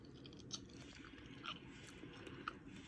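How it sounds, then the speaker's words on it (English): Crunchy bites into a fried stuffed wonton, a few sharp crackling crunches around chewing, close to the mic and fairly quiet, with no talking. "Let me see if I can get y'all a good crunch."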